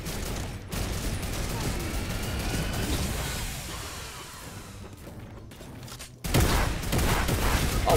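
Turret gunfire in a Fortnite match, a dense, continuous rattle of rapid shots that runs throughout, briefly drops out near the end, then resumes louder.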